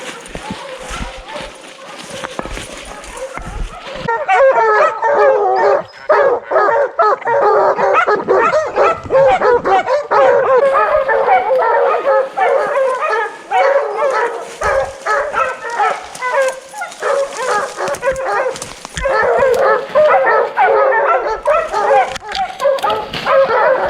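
Several dogs bark, yip and whimper almost continuously at close range outdoors, a loud, busy chorus with brief dips, while they are tied back near a bear's den.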